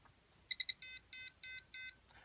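Camera electronics board signalling a fault with a sensor chip not attached properly: three quick high beeps followed by four longer evenly spaced tones, faint and clean against a quiet background.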